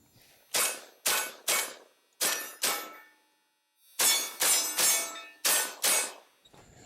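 Shotgun blasts from an M4 at an outdoor shooting range: eight sharp, loud reports in two clusters of three to four shots, each with a brief decaying tail, with no voices.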